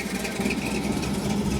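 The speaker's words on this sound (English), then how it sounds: "That car's nice. Nice Chevy right there, you can hear it." A Chevrolet car engine idles with a steady low rumble, moderately close, with no voices.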